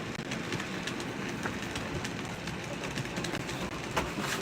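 A JR Limited Express Series 287 Panda Kurabu model train runs along its track with a steady, close rumble and fine rhythmic clicking from the wheels over rail joints, continuous throughout with no voices.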